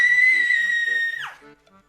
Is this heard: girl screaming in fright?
yes